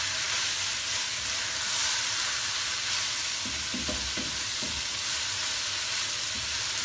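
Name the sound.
vegetables stir-frying in pan for chowmein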